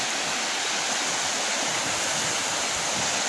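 A waterfall on a river roars as a steady, dense wash of rushing water, loud and unbroken throughout.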